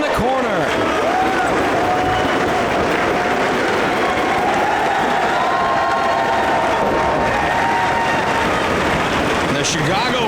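A Chicago crowd at a Ring of Honor wrestling event roars and cheers continuously, a dense, loud wall of shouting and applause throughout.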